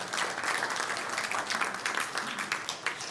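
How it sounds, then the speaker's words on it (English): Audience applause from a crowd at a tech conference talk, a sustained wash of many hands clapping at moderate volume throughout, fairly distant. "It's at this moment where you should clap your hands."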